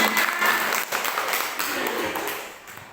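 Applause for a teacher, Bu Jamalia, in a group session: a short burst of clapping from several people, moderately loud and fading over about three seconds, with faint voices underneath.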